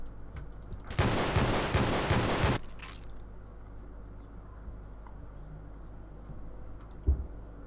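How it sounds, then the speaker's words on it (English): Shotguns in Garry's Mod let off a dense burst of rapid, loud blasts for about a second and a half, then a single sharper shot follows later over a quiet background. "Shotguns."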